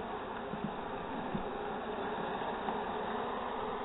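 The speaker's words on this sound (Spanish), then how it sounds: "Esta es la casa de las abejitas, su panal y donde están trabajando. Como podemos observar, hay muchas abejitas." Honeybees buzzing steadily in an open hive full of bees, a continuous faint hum with no talking.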